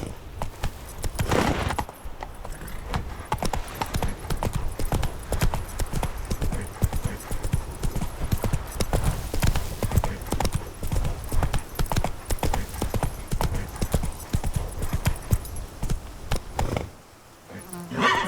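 Roach, a horse in The Witcher 3: Wild Hunt, gallops with a fast, continuous clip-clop of hooves, loud and close, running steadily for most of the stretch before a brief lull near the end.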